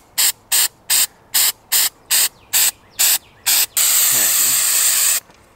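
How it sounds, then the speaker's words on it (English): An aerosol cleaner sprays onto hot sensor wires in ten short, evenly spaced hissing bursts, followed by one longer continuous spray of about a second and a half, close and loud. "spray 10 to 15 sprays onto hot wires"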